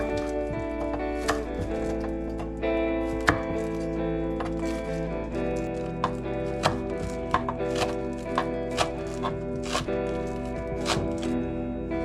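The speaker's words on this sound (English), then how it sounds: "we're going to start out by dicing up some green onions" A knife dicing green onions on a cutting board, a steady run of crisp, close chops with a faint steady hum underneath.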